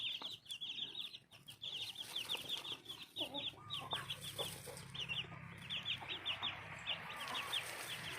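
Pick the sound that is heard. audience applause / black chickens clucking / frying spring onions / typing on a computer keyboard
black chickens clucking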